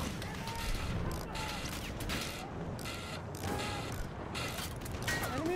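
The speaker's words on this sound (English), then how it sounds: "Enemy machine gun over there." Enemy machine gun fire in the Landship video game: dense, fairly continuous rattling bursts of gunfire with mechanical clatter, steady and moderately loud through the whole stretch.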